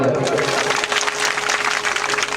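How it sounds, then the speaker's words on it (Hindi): Audience clapping at a religious gathering, steady dense clapping throughout, fairly close, with a sustained tone and faint voices underneath. "ताली बजा दो।"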